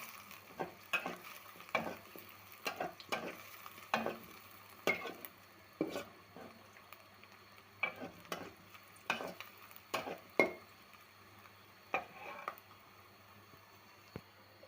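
Pangas fish fry in oil in a pan, a soft continuous sizzle broken by regular scraping strokes of a spatula stirring and turning the pieces.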